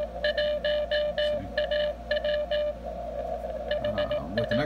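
CW Morse code tones from a Xiegu X6100 transceiver's internal speaker, a steady tinny beeping in rhythmic groups of dots and dashes over a low hum and band noise, fairly faint with no talk.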